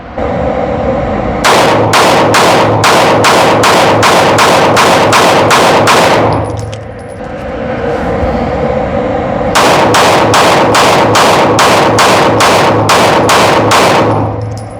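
Rapid pistol fire from a Canik Mete Prime and a Springfield Echelon Compact rings out loud and close in two long strings of sharp, evenly spaced shots, separated by a short pause.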